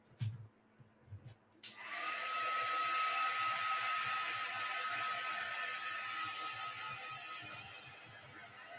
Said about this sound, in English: A heat gun just puts off more heat.